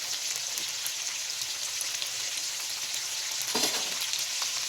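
Mutton fries in a pan with a dense, steady sizzle that fills the whole stretch, crackling evenly at close range, with a brief stirring scrape partway through and no talk.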